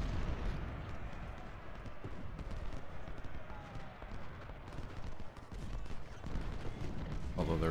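Civil War battle gunfire and artillery in the Ultimate General Civil War video game, a dense, continuous crackle of musketry with low rumbling booms, steady and moderately loud throughout.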